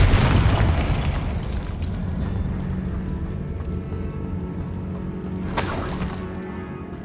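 In the video game Hogwarts Legacy, a Confringo spell explodes with a loud, heavy boom that decays into a rumbling tail, and a second sharp burst follows a few seconds later.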